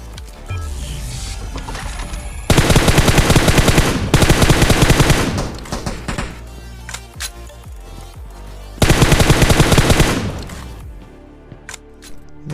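Loud, rapid machine-gun bursts ring out in a mobile battle royale game: two long sustained volleys of several seconds each, with quieter game sounds and scattered shots between them.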